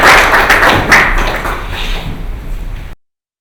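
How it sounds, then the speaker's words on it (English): An audience at a litigation forum session in Dubai applauds, a dense burst of clapping that starts loud and gradually thins out before cutting off abruptly after about three seconds. "Give yourselves a round of applause."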